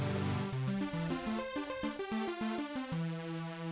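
A Roland Zenology synth plays a supersaw oscillator patch as a short run of bright, buzzy stepped notes, loud and alone with no voice over it.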